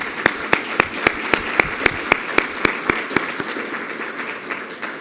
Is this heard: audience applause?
yes